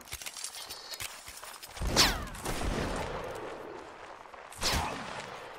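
Musket volleys crack out in a Mount & Blade line battle, two sharp loud bursts a few seconds apart with rumbling noise and battlefield clatter between them.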